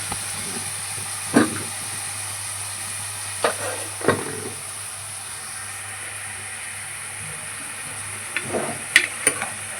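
A pressure cooker holding chickpeas hisses with steam, a steady faint hiss under a low hum, broken by a few short clinks and knocks nearby.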